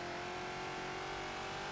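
Ford Falcon XB engine in Forza at Road America, a steady, loud, close drone under throttle with a constant harmonic whine and no pauses.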